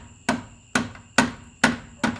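Five evenly spaced solid knocks, about half a second apart, as a piston is tapped down through a ring compressor into the cylinder of a DT 466 diesel engine during an in-frame rebuild; loud, close, sharp hits with no talk.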